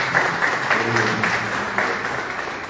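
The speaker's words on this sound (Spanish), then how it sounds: "Un fuerte aplauso también." Audience applause at a cultural tribute event, a steady wash of many hands clapping that holds at an even level for a few seconds with a slight fade at the end.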